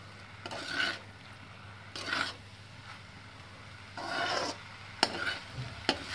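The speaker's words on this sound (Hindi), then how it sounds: "और अच्छी तरह से मिक्स कर लेते हैं उसको।" Methi pulao being mixed in a pot: a few separate bursts of scraping and stirring, each lasting under a second, with quiet gaps between them and a couple of sharp knocks near the end.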